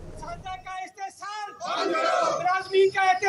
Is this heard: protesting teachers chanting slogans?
yes